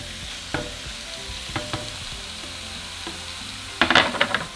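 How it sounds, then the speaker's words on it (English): Chopped pork and chorizo hit a hot pan over medium-high heat, with a low steady sizzle, a few scraping stirs, and a louder burst of frying and clatter near the end. "so let's throw in our meat."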